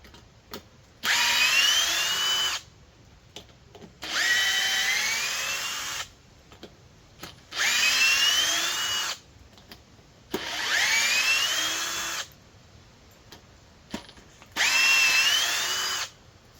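A 12-volt Milwaukee M12 FUEL or DeWalt impact driver runs in five separate bursts of roughly a second and a half each, whirring and rising in pitch, with short silent pauses between, close and loud.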